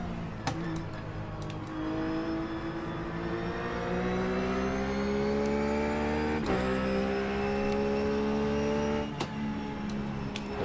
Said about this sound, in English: let it hit the rev limiter there, that's not too good